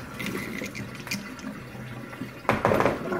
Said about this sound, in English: Then you spin it, water makes a whirlpool